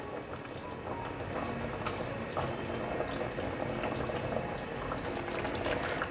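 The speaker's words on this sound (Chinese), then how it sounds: "现在放入芹菜末，继续让它炖煮。" Stew of wide glass noodles and minced celery simmers in a pot, giving a steady, low bubbling and soft liquid burbling that continues evenly and quietly throughout, with no voices.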